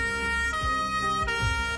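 Ambulance siren wailing steadily through a short stretch, its sweeping tone loud and continuous over low road rumble.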